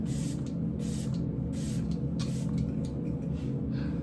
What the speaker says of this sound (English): the setting spray. Just a few.